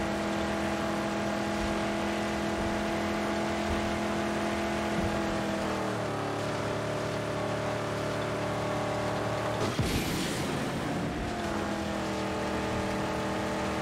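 A car engine at full throttle in the game Mad Max, loud and sustained with steady droning harmonics, a gear shift partway through and a brief rougher burst near the end.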